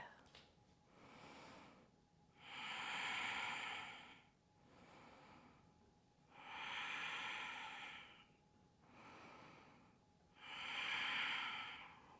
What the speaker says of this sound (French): Respire.